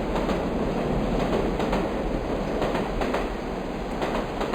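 A cartoon sound effect of a train pulling away from a station: a loud, steady rolling rumble with faint rhythmic clatter that runs throughout without a break.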